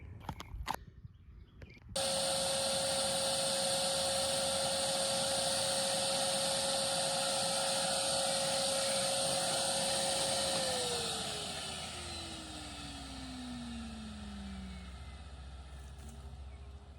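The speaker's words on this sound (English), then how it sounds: "this is how I'm getting ready to do it with my shop vac." A shop vac running steadily to start siphoning pond water from a neighbouring pond, a loud continuous motor whine and airy roar that drops in pitch and eases after several seconds, with a quieter start before the motor kicks in.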